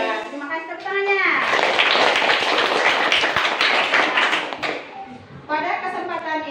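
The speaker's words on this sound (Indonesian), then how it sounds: "terima kasih tepuk tangannya" An audience at a school lesson breaks into dense, loud applause lasting several seconds, with a voice speaking just before and after.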